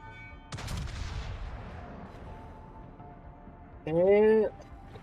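A single heavy naval gun blast booms out and rolls away into a long fading tail, followed later by a brief tonal alarm-like sound, in World of Warships.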